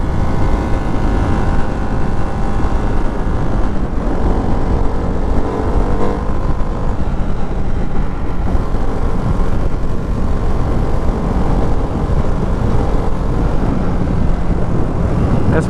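A 2024 Ducati Hypermotard 698 RVE motorcycle engine runs steadily and loudly up close for a long stretch, droning with dense wind and road roar and only subtle shifts in pitch as it works through the gears, with no voices.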